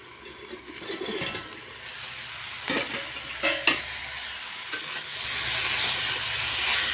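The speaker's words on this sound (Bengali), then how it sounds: "সবজিটা ভালোভাবে সাতলানো হয়ে গেছে" Mixed vegetables sautéing in a pan, a continuous sizzle punctuated by a few sharp scraping stirs and light clinks, the frying hiss swelling louder toward the end, no voices.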